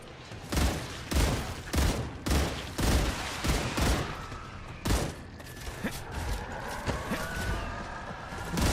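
Artillery firing and exploding in StarRupture, heavy booming blasts in irregular succession with rumbling tails, followed by denser crackling impacts and faint mechanical whines, no talk.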